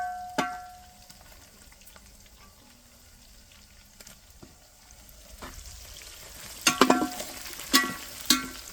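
Green chillies and ginger garlic paste fry in a pan for Konaseema fish curry, a soft steady sizzle with sharp clatters of stirring growing louder toward the end, no voices.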